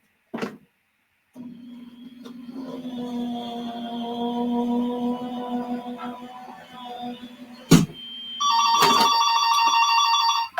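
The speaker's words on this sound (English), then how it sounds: "Pardon me, that my telephone is ringing." A telephone rings in a crafting room, starting with a sustained electronic tone after a short click and ending in bright, rapidly pulsing ringtone bursts near the close. Nobody speaks.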